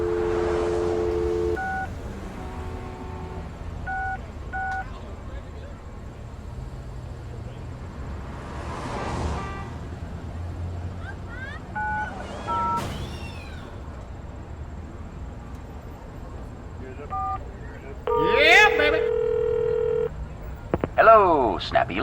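Touch-tone telephone dialing in the Leisure Suit Larry Reloaded game, with several short bursts of beeping keypad tones spread across the stretch, one loud run near the end, plus ringing and faint background sounds between them.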